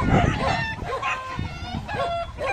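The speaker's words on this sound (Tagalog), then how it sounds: "Daming manok." Chickens cluck and call repeatedly nearby, several birds with rising and falling squawks overlapping in a busy outdoor flock.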